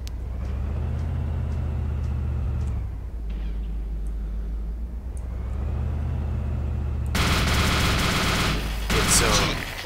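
A moving vehicle's engine drones steadily in Arma 2: Operation Arrowhead multiplayer, then loud bursts of gunfire erupt close by over the engine near the end.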